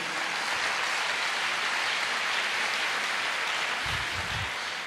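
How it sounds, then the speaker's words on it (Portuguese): Steady applause from a church congregation fills the whole stretch, dense and even, with a few low thumps near the end. "dá uma salva de palmas aí"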